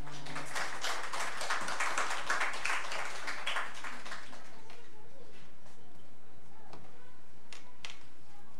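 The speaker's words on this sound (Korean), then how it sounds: "나오실 때 큰 박수 부탁드립니다" A church congregation applauds a guest walking out. A burst of clapping builds over the first few seconds, then thins out to scattered claps and fades into a quiet room.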